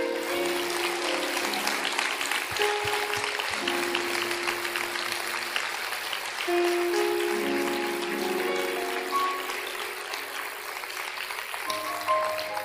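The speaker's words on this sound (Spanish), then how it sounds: "Dele un aplauso al Señor." A church congregation applauds after a prayer, a sustained wash of clapping under held musical tones from a keyboard, with brief faint voices in the room.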